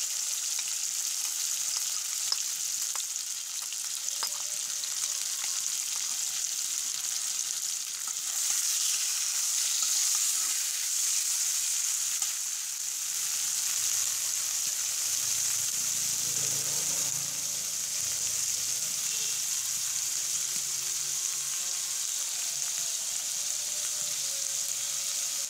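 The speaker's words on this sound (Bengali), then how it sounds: "এখন হাই হিটে তেলের মধ্যে মিক্স করা মাংসটা দিয়ে নিচ্ছি।" Spiced pigeon meat fries in hot oil in a wok over high heat, a continuous loud sizzle with occasional stirring scrapes, steady throughout with no talking.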